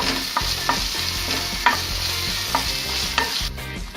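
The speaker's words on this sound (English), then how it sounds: "And fry all of them nicely." Peas masala with ginger, garlic and chili paste frying loudly in a pan, rhythmic stirring scrapes over a continuous sizzle, with a faint steady hum underneath.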